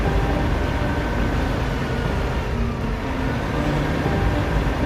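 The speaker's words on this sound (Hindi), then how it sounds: "गुल्ली बुल्ली और सॉन ये तीनों अपनी अपनी गाड़ी और स्कूटर से बाबा के घर की तरफ काफ़ी तेज़ी से जाने लग जाते हैं।" Cars and a scooter speeding along a road: a steady, loud broadband roar of engines and traffic that holds without a break from start to end, with no voices over it.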